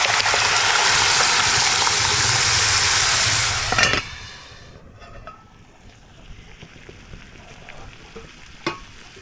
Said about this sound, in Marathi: बघा कशी फोडणी अगदी मस्त बसली आहे